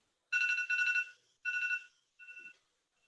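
A phone timer alarm goes off in a quiet room, giving three bright electronic tone bursts: two long pulsing beeps and then a shorter, softer one, with no voices.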